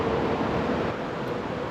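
A river flows beside a small trail just outside Denali village in Alaska, producing a steady, broadband rushing wash that holds even and fairly loud throughout, with no voices over it.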